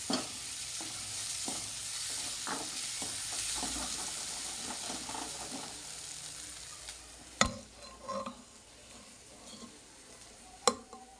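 Red chili powder and onion masala frying in a pan for pav bhaji, a steady close sizzle with scattered stirring scrapes and a few sharp knocks of the spoon toward the end.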